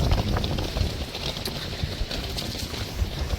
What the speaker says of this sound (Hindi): हवा चली